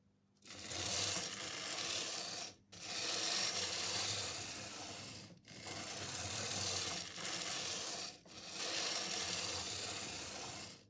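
A small electric motor in an old Jouef SNCF BB 13001 model locomotive runs in four bursts of a few seconds each, a quiet whirring hiss broken by brief pauses.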